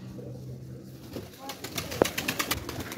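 Pigeons coo softly nearby, low murmuring calls with a few sharp clicks and rustles, and a faint voice in the background.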